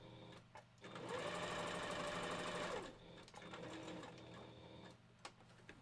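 Sewing machine stitching pieces of wolf fur together, running in a steady buzzing burst for about two seconds, then shorter, quieter runs and clicks close by.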